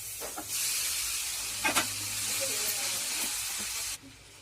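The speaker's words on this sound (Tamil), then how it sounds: "இப்போ நம்ம எடுத்து வச்ச இந்த ராகி நூடுல்ஸை வந்து இதை போட்டுக்கலாம்." Ragi noodles tossed into a pan of sautéed vegetables give a steady sizzling hiss with a few brief scraping stirs, close and fairly loud, before the sizzle abruptly cuts off.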